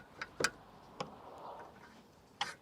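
Small screws being backed out of a bracket on a camper fridge hinge, a few sharp metallic clicks and ticks spaced irregularly, close and fairly quiet with no talk.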